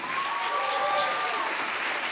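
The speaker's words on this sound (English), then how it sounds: "let's have a big round of applause for the cast and crew of Flight 3465" An audience claps for a stage cast and crew, a dense, steady round of applause from a crowd that holds at an even level for a couple of seconds.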